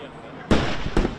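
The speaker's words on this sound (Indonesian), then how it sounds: "Ledakan demi ledakan bersahutan." Two sharp blasts of battle explosion ring out about half a second apart during a cavalry assault with Leopard battle tanks, loud and close over a low background murmur.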